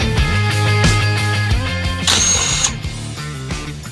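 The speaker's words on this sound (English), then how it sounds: "the next step in the process is removing these 4 bolts right here" A power tool whirs and buzzes loudly in short pulses while backing out the four bolts holding the axle hanger on a Honda Odyssey FL250, close up with a brief higher-pitched spin near the middle.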